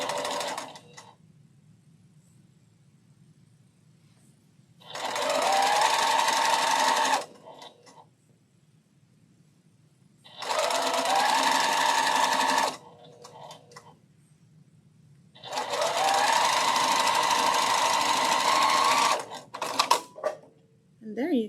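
A sewing machine stitches a quilt block in three bursts of steady, rapid mechanical whirring, each lasting a few seconds and separated by quiet pauses, with faint handling clicks near the end.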